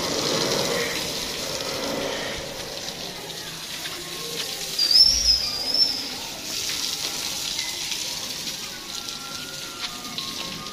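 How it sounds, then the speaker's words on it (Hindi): Water running out of a pipe to flood a field beside a newly built gate, a steady rushing flow heard at close range, with a brief splashy surge partway through. "पापा बाहर बाहर वाली साइड से पानी लगा रहा है"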